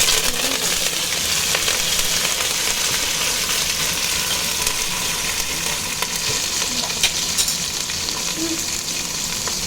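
Onion, tomato, green chilli, curry leaves and coriander frying in a pan, a loud continuous sizzle with occasional stirring scrapes throughout.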